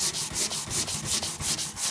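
Cured Evercoat Polyflex body filler sanded by hand in steady back-and-forth strokes, a crisp, dry rasping repeated about eight times in quick rhythm, close and fairly loud with no talking.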